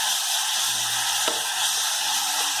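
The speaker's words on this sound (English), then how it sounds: "I will go ahead and saute it further" Chopped tomato sautéing in a pan for chana masala, giving a loud continuous sizzle that stays dense and even throughout, close by and with no talk.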